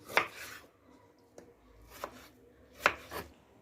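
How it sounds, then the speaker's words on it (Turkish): A knife slices into the tops of bell peppers being prepared for Turkish olive-oil stuffed peppers, giving a few sharp, close cutting clicks at the start and near the end, with quieter small taps between. "biberlerin ağzına kesim yapıyorum"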